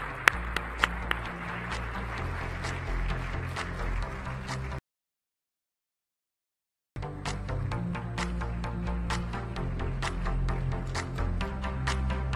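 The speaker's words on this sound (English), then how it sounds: "another round of applause" An audience at a women's digital inclusion summit applauds, with dense, continuous clapping that cuts out abruptly for about two seconds and then resumes just as full.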